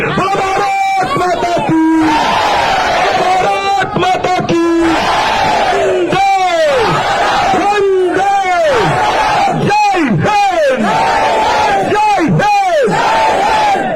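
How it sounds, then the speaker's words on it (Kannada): A large political rally crowd shouting a patriotic chant in unison with raised hands, repeated loud rising-falling collective cries answering a leader's calls, dense and close. "ಒಂದ್ಸಲ ಉಚ್ಚ ಕಂಠದಲ್ಲಿ ಭಾರತ್ ಮಾತೆಗೊಂದು ಜೈಕಾರ ಕೊಡಿ ಎರಡೂ ಕೈಗಳನ್ನ ಗಾಳಿಗೆ ಬೀಸಿ"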